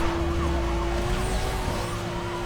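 Police car sirens wail during a chase in Need for Speed Most Wanted, a loud steady tone over rumbling engine and road noise, continuous through the short moment.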